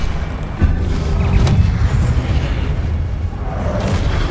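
A Confringo spell explodes in the video game Hogwarts Legacy, a loud low boom with rumbling blasts and a sharp burst around the middle, over a steady dense roar.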